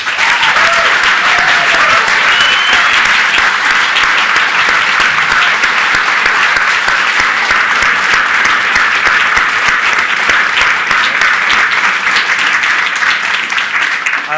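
Loud, sustained applause from an audience thanking a panel at the close of a summit day, continuous dense clapping throughout without pause.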